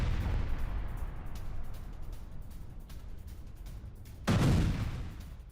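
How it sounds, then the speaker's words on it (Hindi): A heavy blast bursts out near the end as a Russian T-80 tank on the front line explodes, over a constant rumbling, crackling background of distant gunfire-like noise. "किस तरीके से रूसी फ्रंटलाइन पर तैनात T-80 टैंक में ब्लास्ट हुआ"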